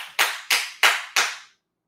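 Four sharp, evenly spaced hand claps ring out close and loud, each with a short decay, followed by silence.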